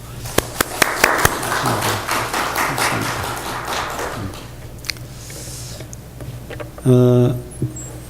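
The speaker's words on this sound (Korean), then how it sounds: "우리 성가대 격려하면서 박수 한번 해드리겠습니다" A church congregation clapping to encourage the choir, a burst of claps that builds and fades over several seconds, followed by a short tonal sound near the end.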